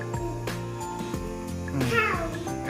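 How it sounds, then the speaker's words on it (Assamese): A cat meows in a short, clear, rising cry near the end, surrounded by other tonal sounds and a bit of voice. "এইটো কি হয় কেট"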